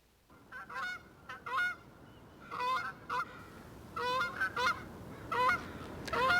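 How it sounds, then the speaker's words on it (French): Repeated loud honks from several migrating Canada geese, calling in bursts and overlapping, over a soft breezy background. "le passage des oies qui vont vers le Grand Nord"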